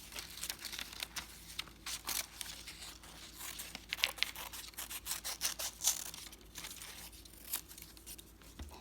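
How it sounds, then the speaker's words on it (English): Scissors cut paper shapes for a handwriting craft in a string of soft, crinkly snips and rustles that repeat unevenly at close range, with no voices. "Make sure to always practice thumbs up cutting when you are using scissors."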